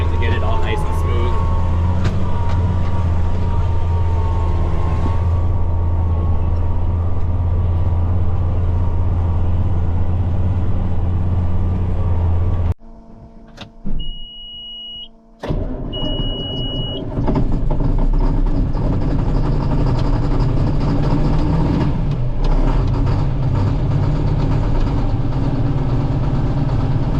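A tractor engine works a field with a chisel plow during fall tillage, a loud steady rumble that drops out briefly partway through before resuming, with people talking over it.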